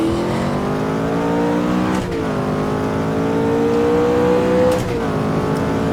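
McLaren F1 V12 racing around the Hockenheim track in Automobilista, engine screaming loud and continuous, pitch climbing through the gears with two sharp gearshift dips where the tone drops and rises again.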